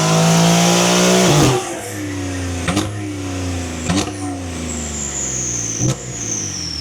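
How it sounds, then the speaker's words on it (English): A Porsche 992 Carrera revs hard on a dyno, with a loud sustained engine note that climbs, then drops through several sharp gear-change cuts, each followed by another rising pull. "behind me we have a 992 Carrera on the dyno"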